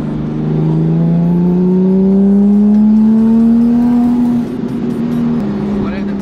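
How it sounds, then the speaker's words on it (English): Heard with the windows down from inside, a Porsche GT3 engine drones loudly and rises steadily in pitch as it accelerates, then drops and settles. "One of the main reasons you get a GT3 is so you can hear the engine."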